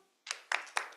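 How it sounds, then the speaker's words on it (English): An audience clapping in unison at a talk, three sharp crisp claps at an even quick pace in an otherwise quiet room. "So on 3, clap, okay?"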